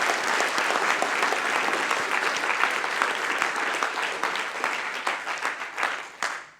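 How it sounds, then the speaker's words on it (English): Audience at a silicon chemistry lecture applauding, a dense, even round of clapping from a sizeable crowd that holds steady and then thins out and fades near the end, with no talking over it. "I think we ought to give Richard a round of applause for that"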